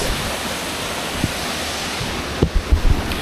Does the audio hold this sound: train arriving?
no